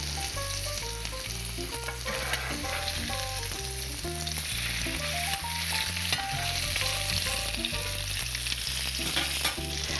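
Salmon fillets frying in a pan give a steady, continuous sizzle that sits beneath louder melodic background music throughout.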